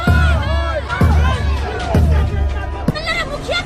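A dense crowd at a village gathering, loud and close, with overlapping chatter, raised voices and a few sharp shouts rising out of the steady hubbub.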